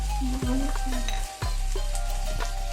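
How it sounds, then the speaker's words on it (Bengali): Ginger, garlic and onion paste hitting hot oil in a pan, a loud dense sizzle with sharp spatula scrapes and clanks against the pan, close and steady with no talking. "এখন আমি এর মধ্যে আদা বাটা রসুন বাটা পেঁয়াজ বাটা সব কিছু দিয়ে দেব"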